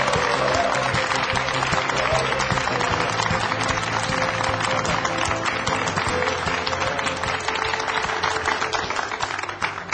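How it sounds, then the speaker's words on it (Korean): Sustained audience applause greets a guest lecturer at a televised CEO lecture, a dense, steady wash of many hands clapping that fills the hall evenly for about ten seconds. "큰 박수로 맞이해 주십시오"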